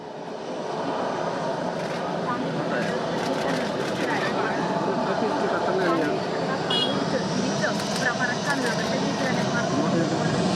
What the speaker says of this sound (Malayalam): തിരുവനന്തപുരം വിമാനത്താവളത്തിൽ കുടുങ്ങിയ ബ്രിട്ടീഷ് യുദ്ധവിമാനം F-35B ഹാങ്ങറിൽ നിന്ന് പുറത്തിറക്കുന്നു.